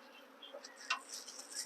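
A swarm of several thousand honey bees hums and buzzes in a dense, continuous drone, with a few louder passes near the listener and no speech.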